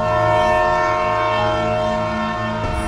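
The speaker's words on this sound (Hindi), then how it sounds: "तभी वहाँ पे एक ट्रेन आ जाती है।" A cartoon train pulls into a railway station, sounding a loud, sustained tonal blare like a horn or whistle that holds steady for several seconds before shifting near the end, with no talking.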